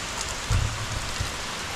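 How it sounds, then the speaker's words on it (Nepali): Heavy monsoon rain pouring steadily below a cliff at Tarebhir in Nepal, a dense, even hiss with a couple of low rumbling thuds, heard alone without talk. "तारेभिर पुग्नै लाग्दाखेरि एकदमै मुसलधारे पानी पर्यो"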